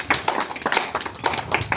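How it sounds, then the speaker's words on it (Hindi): An audience claps at a school-style lesson on how the heart and kidneys work, a crowd's scattered, fairly quick claps rising and falling in uneven bursts, moderately loud with no voices over it. "जोर से ताली"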